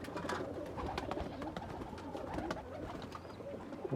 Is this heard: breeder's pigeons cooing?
yes